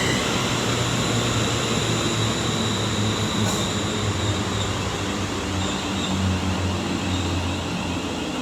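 A passenger train moves through Coventry station on the West Coast Main Line, a continuous loud rumble of wheels and traction with a faint high squeal and a brief click midway, heard up close with no voices.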